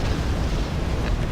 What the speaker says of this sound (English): Oh no, the Hueys are gonna crash and burn.